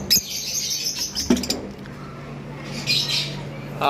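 Lovebirds chirp and squawk inside a bird shop, with a few sharp calls close by early on and another burst of bright chatter near the end over a low steady hum.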